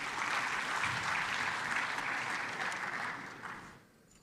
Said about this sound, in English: Let's welcome with a hands of applause, please.